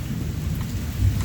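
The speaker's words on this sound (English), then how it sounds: "it is thunder and lightning, and it's warm" Thunder rumbles low and steady through a warm rainstorm, with rain pattering on surfaces and the rumble swelling near the end of the short stretch.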